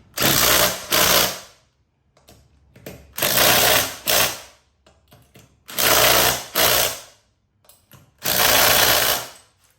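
Electric impact wrench tightening golf cart lug nuts, four loud close bursts of rapid hammering separated by short quiet gaps and small handling clicks.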